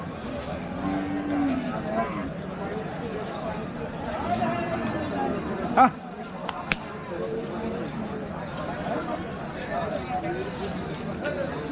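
Cattle moo at a busy outdoor livestock market at Hazratpur before Eid sales, the low calls rising over a constant crowd babble with people talking nearby.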